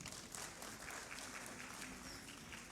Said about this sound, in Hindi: आपने तालियां बजानी हैं बहुत सारी।